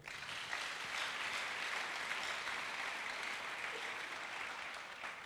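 A church congregation applauding steadily for several seconds, dense and even clapping that fills the space, with no speech over it.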